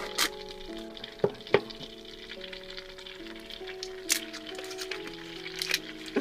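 Butter, frozen beforehand, melts and sizzles in a pan on high heat while being clarified into ghee, a steady close frying crackle with occasional louder pops and stirring scrapes, no talking.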